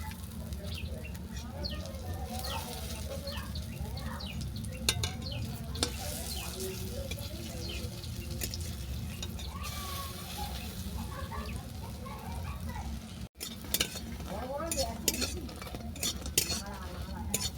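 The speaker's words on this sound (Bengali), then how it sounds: "বড়াগুলো এক পিঠ ভাজা হয়ে যাওয়ার পর অপর পিঠ উল্টে দিচ্ছি।" Pumpkin-leaf fritters fry in oil in a wok while being flipped, giving a soft, continuous sizzle with occasional light scrapes and clinks of a utensil, fairly quiet and close.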